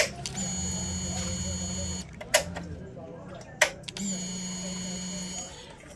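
A BS6 motorcycle's fuel pump primes as the key is switched on: a steady electric buzz runs for a couple of seconds, then sharp clicks, then a second buzz of similar length.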